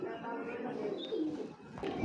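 A pair of old-breed Shapchila pigeons coo nearby in low, repeated rolling calls, partly under someone talking.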